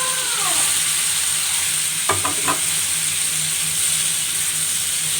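Tomatoes fry in a pan with browned onions, giving a steady, close sizzle throughout, with a few quick clinks of a utensil against the pan midway.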